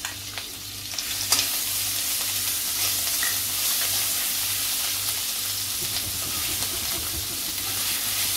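Chili, garlic and ginger paste with mustard seeds and cumin fries in hot oil for yogurt kadhi, giving a steady close sizzle with stirring scrapes and a sharp clatter early on.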